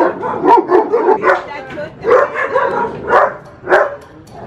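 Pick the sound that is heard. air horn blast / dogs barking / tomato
dogs barking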